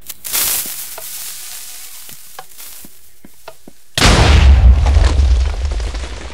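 A cannon explodes in a pirate battle royale video game, a sudden loud booming burst with a long crackling roar after a stretch of sharp isolated clicks and pops.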